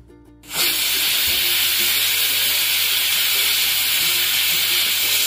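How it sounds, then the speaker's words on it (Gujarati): A pressure cooker cooking dried cowpea curry lets out a loud, continuous hissing steam whistle that bursts in after a brief quiet moment and holds steady to the end, with no voices. "હવે આ શાકને આપણે 4 થી 5 વિસલ થાય ત્યાં સુધી તેને કુક કરી લઈશું."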